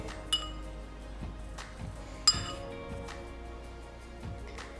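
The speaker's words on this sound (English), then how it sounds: "pick up the coconut and dunk it in this chocolate. Give it a good roll." Small forks tap and clink against a bowl while coconut bars are dunked and rolled in melted chocolate, giving a few sharp metallic clinks spaced apart over a quiet, close background.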